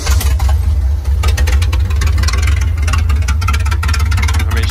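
A Jeep CJ7 engine idling loud and steady close by, deep rumbling throb with a rough, slightly uneven rhythm and no voices.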